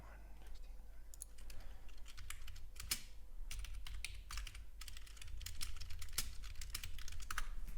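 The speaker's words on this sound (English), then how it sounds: "I do have a chat room, so that's what you hear me typing on." Fast typing on a computer keyboard during live day trading, crisp close key clicks in irregular bursts and pauses over a low background hum.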